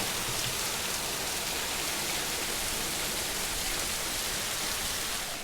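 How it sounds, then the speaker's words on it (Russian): Heavy rain pours outside during a storm with strong wind, a dense steady hiss of drops on surfaces that stays loud and even throughout, with no one speaking. "Невозможно сейчас на улице находиться из-за дождя, плюс еще и шумно."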